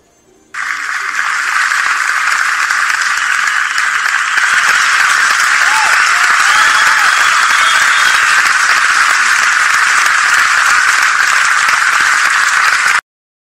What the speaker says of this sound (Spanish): Comenzamos con gritos y aplausos.